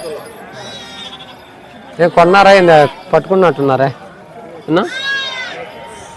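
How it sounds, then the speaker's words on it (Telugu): Sheep bleat among the crowd at the Gudur weekly sheep market, with a burst of loud, wavering bleats after two seconds and another around five seconds, while people talk nearby. "హెవీ సైజు గొర్రెలు పిల్లలు బాగున్నాయి"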